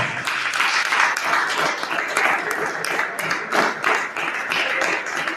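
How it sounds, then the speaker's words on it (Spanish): Church congregation clapping loudly during a Sunday service, a sustained crowd of hands beating with uneven rhythm, dense and close throughout. "den un fuerte aplauso al Señor"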